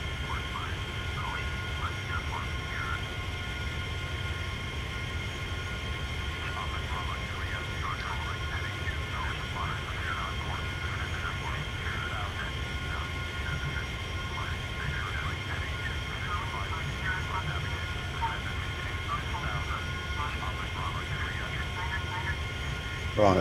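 An airliner climbing out of London City in a flight simulator, with a steady, even engine drone and broadband rumble that holds without change, and faint intermittent talk underneath.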